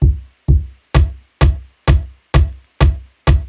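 Eight punchy kick drum hits at a steady mid-tempo beat, each with a sharp, bright click on top and a deep, booming low thump underneath.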